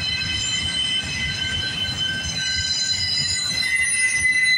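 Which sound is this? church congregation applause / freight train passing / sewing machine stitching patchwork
freight train passing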